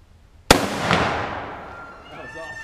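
One sharp, loud rifle crack from a .308 firing a Hornady hollowpoint into a phonebook, followed by a long fading echo, with a faint voice near the end.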